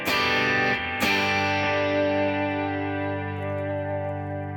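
Bass guitar fed through a 1176-style studio compressor rings out sustained, evenly squeezed notes, with a second note struck about a second in and left to decay smoothly while the tone stays dense and level.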